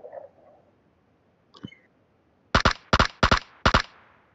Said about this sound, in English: Dia tembak bang tadi.